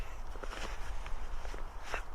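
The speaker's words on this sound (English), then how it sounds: "Just heard another footstep" Footsteps in a dark, quiet setting during a paranormal investigation, a few soft scuffing steps at close to mid distance with no talk.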